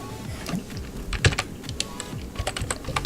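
Fast typing on a computer keyboard, close and clear: quick bursts of clicking keystrokes with a few heavier key hits, steady and uninterrupted, no voices.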